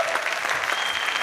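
A live audience breaks into a brief burst of dense, steady applause, close and loud, with no voices over it.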